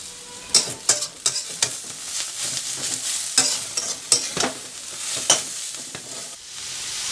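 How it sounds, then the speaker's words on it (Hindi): Momo stuffing being sautéed in a pan with salt and black pepper, with repeated spatula scrapes and stirring clacks over a steady close sizzle, no voices. "सॉल्ट एंड पेपर डालने के बाद मैंने वन मिनट और इसे सॉटे किया"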